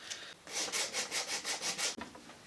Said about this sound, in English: Just going to try and sand these surfaces in a little